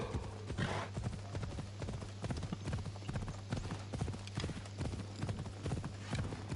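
Steady, rhythmic clip-clopping of a horse's hooves in the video game Assassin's Creed Odyssey, a continuous trotting beat over ambient game noise with no talking.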